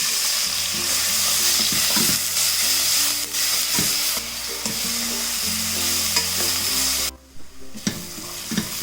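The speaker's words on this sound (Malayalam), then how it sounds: "ഇതിലേക്ക് നമുക്ക് ചോപ്പ് ചെയ്ത് വെച്ചിരിക്കുന്ന സവാള ഇട്ട് വഴറ്റി കൊടുക്കാം." Chopped onions sauté in oil with cardamom and other whole spices, sizzling loudly and continuously close by. Repeated stirring scrapes and knocks of a spoon run throughout, with a brief drop in the sizzle near the end.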